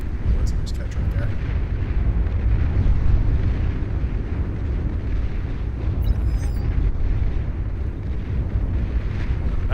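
Bombing run in the strategy game Beyond All Reason, a dense, continuous low rumble of explosions and artillery-like booms rolling on for several seconds, loud and heavy, with a brief high electronic chirp partway through.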